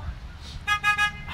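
Car horns at a drive-in church service give three short honks in quick succession, fairly faint over outdoor background noise.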